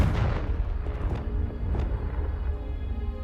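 Confringo blasting spell exploding in Hogwarts Legacy, a dense rumbling boom with several sharp bursts layered over a sustained loud low roar.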